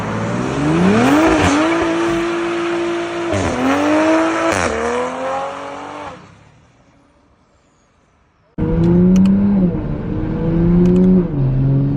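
A tuned MK5 Toyota Supra engine pulls hard in third gear, its loud exhaust note climbing through rising revs with brief shifts, then drops almost silent for a couple of seconds before a second aggressive pull roars back close by.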